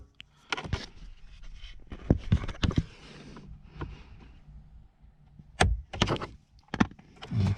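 Inside a 2002 Toyota RAV4, the plastic glove compartment is pulled free, giving a scattered run of sharp clicks, knocks and scraping thuds at close range, with quiet gaps between them.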